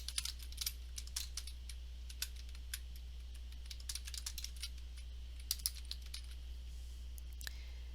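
Quiet, steady keystrokes on a computer keyboard as a short title is typed, clicks scattered irregularly over a low electrical hum.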